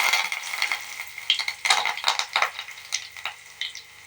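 Curry leaves drop into hot oil for a dal tempering, crackling and spitting in loud, irregular sizzling bursts close up, with no voice.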